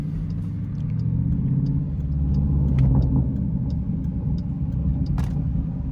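A modified Jeep SRT with a loud aftermarket exhaust rumbles steadily with a deep, throaty drone, close and heavy, swelling slightly as it revs under load while the vehicle moves, with no talk.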